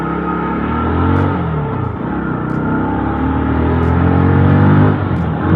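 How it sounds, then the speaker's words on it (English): A 2021 Bajaj Pulsar NS160, a 160.3cc fuel-injected, oil-cooled twin-spark engine, revs hard in first gear with a loud, close whine that climbs and eases in pitch. No voices are heard. "Very high revving engine."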